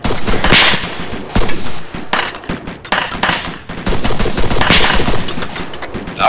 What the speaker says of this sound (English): Taking fire from the west.